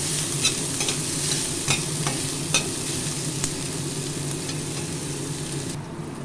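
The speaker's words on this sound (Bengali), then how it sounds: "পেঁয়াজটা আগে দিয়ে রসুনটা দিলাম ভালো করে ভেজে নেব" Onion and garlic fry in a pan with a loud, continuous sizzle, a utensil scraping and clicking against the pan in a loose rhythm of stirring strokes throughout.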